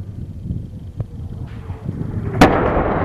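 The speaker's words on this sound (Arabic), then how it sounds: "قصف عنيف على مصيف سلمى" Heavy artillery shelling on the mountain resort town of Salma in Latakia, Syria, with a sharp distant boom near the end and a fainter thud earlier, set over a low outdoor rumble.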